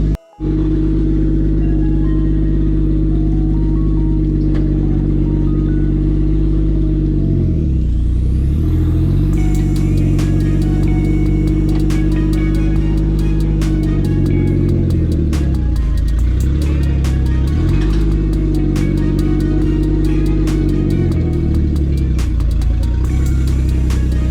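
A turbocharged Lexus IS300 engine idles steadily with a deep, loud rumble, its pitch dipping and recovering a few times as the idle fluctuates.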